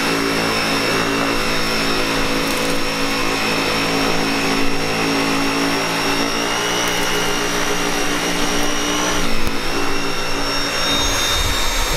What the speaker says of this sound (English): it's picking up all the little bits and pieces like rocks, dirt